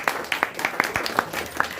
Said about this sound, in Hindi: प्लीज ताली बजाइए मिस नंदिनी कुमारी के लिए